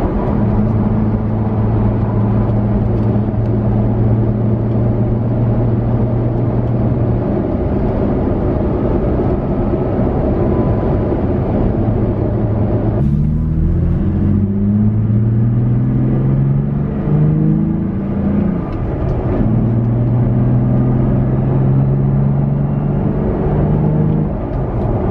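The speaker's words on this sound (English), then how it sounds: "Drop down a gear and do a little bit of acceleration." Pickup truck, either a Jeep Gladiator or a Toyota Tacoma, heard from the cabin with a steady engine drone and road rumble; midway the pitch drops with a gear change, then rises as it accelerates, with no talk.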